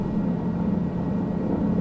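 Helicopter engine and rotor in Microsoft Flight Simulator, flown at high speed with the nose pushed down: a steady, dense mechanical drone with a low hum, constant and unbroken throughout, with no voices.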